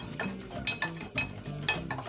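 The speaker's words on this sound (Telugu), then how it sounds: "ఇందులోకి ఒక 1/2 కప్ క్యారెట్ పీసెస్ని యాడ్ చేసుకోవాలండి. వీటిని కూడా బాగా ఫ్రై అవ్వనివ్వాలి." Half a cup of carrot pieces frying in a pan for a winter soup, a soft sizzle with a few quick stirring scrapes and clicks in a short burst, close by and quiet, with no speech.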